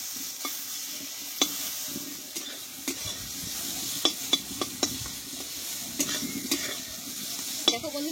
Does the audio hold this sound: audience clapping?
no